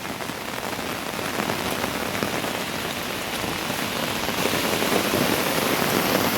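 Heavy cloudburst rain pours down in the Konkan countryside, a dense, unbroken roar of drops drumming on surfaces, loud and steady throughout with no voices.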